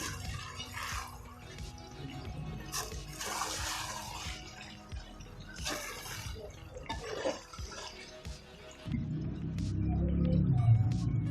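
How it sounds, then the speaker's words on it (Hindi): Water from a mug poured onto raw rice in a pot for vegetable pulao, a steady splashing, trickling pour that grows louder and fuller near the end, close by with no talking. "ये 1 मग मैंने चावल लिए थे, ये 2 मग में पानी डालूंगी।"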